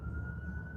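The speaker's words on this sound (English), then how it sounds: "it sounds like there's a siren on my right" Emergency vehicle siren sounding in Saturday night New York City street traffic, a steady sustained wail holding one pitch close by and loud, blended with low traffic rumble.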